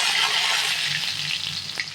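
Mustard seeds, cumin and curry leaves sizzle in hot oil, a dense, steady crackling hiss that holds for the whole stretch with small popping spikes and no talk.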